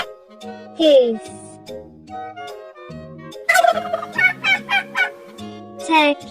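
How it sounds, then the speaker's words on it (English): A farm turkey gobbles in a rapid, warbling burst of loud, close calls, with gentle musical tones and short child-like vocal bits around it. "Turkey."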